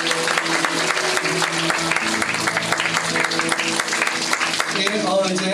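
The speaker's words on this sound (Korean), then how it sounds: "우리 박수로 격려하고" Applause from a church college-group gathering, brisk clapping from many people over sustained sung or played music with steady tones, continuing throughout at even loudness.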